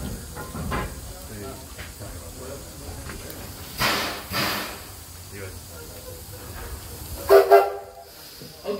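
A steam train at Greenfield Village pulls away after taking on water for its tender, with two loud bursts of whistle and steam over a steady hissing, rumbling background and faint voices.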